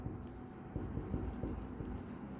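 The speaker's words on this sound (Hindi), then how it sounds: "हम यहाँ पर ब्लैक वाइट बोर्ड पर ब्लैक इंक से लिख रहे हैं" A marker with black ink writes on a whiteboard in a steady, close-up run of soft scratchy strokes and squeaks, with faint talk in the background.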